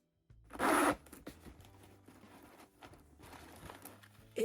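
A Tory Burch zip-top bag's zipper is pulled in one quick, loud rasping run near the start, followed by quieter handling and rustling of the bag.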